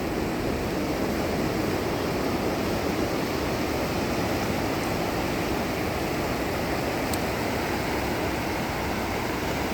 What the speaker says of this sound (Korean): 바다의 파도 소리